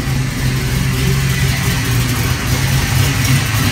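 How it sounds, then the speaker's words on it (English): A Foxbody Mustang with Holley EFI idling on a cold engine, a steady low, even rumble close to the microphone with no revving. "Nice smooth idle."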